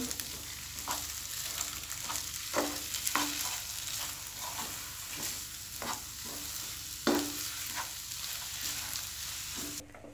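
Egg and mashed potato are stirred and fried together in a pan, giving a constant soft sizzle and a regular series of spatula scrapes and taps, close and fairly quiet, with no voices.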